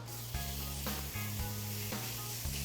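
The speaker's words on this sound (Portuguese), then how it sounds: "Olha só, eu vou virar a carne." Meat sizzling in a frying pan as it is turned, a close, steady hiss of frying with a few soft bumps and scrapes from the pan, no speech.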